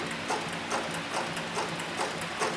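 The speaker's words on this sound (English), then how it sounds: "So this right now is as slow as the motor will go, and you can see the stitching is very, very slow, very, very controlled." A Cowboy CB105 heavy walking-foot sewing machine, driven by a variable speed servo motor at its slowest setting, stitches soft pliable leather with a slow, even mechanical chug, a steady hum under regular thumping strokes about every half second.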